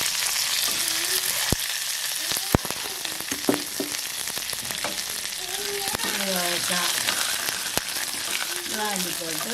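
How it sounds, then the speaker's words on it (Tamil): Mustard seeds and curry leaves spluttering in gingelly oil, a dense steady sizzle cut by a few sharp pops, while a voice speaks faintly underneath. "இப்போ கடுகு வடிக்குது"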